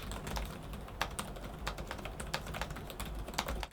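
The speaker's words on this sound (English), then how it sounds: "The keys have a clicky feel, and I liked typing on it" Clicky keys on an Acer Predator laptop keyboard being typed on in a quick, irregular patter of sharp taps, with a few louder key strikes standing out, close and fairly quiet.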